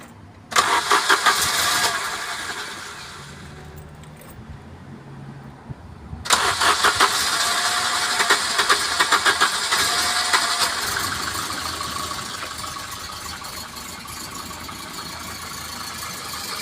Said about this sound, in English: considering I've had the injectors off, I'd say that started up pretty quickly